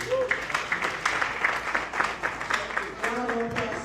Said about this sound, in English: Round of applause for our speaker, Mr. John Fadden.